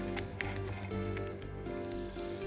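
Steady sizzling and crackling of food frying in a hot pan, with faint clinks and stirring noises, no voices.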